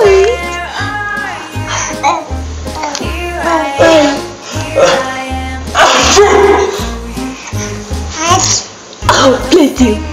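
Baby twins mimic their father's sneeze with short, loud bursts of sneeze-like sounds and squeals, close by. Someone talks and reacts between the bursts.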